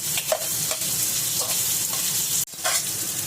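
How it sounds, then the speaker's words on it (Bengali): Chopped onions sizzle and crackle steadily in hot oil for butter chicken, a dense, loud frying hiss with occasional stirring scrapes and one brief dip in the sound. "তেল গরম হয়ে গেছে, এবারে আমরা পুরো পেঁয়াজটা এর মধ্যে দিয়ে দেবো।"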